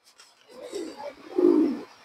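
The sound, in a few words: Beji and Bagha pigeons cooing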